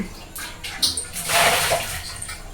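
Tap water, the direct municipal Cauvery supply, runs into a container in a home kitchen, giving a steady close rushing splash that swells in the middle and continues unbroken to the end.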